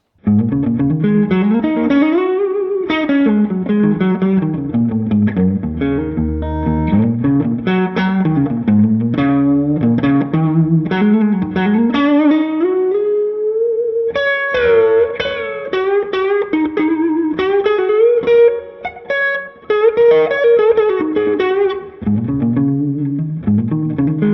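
An electric guitar noodles through fast, winding melodic runs with heavy distortion and a shimmering chorus effect, loud and continuous with no talking.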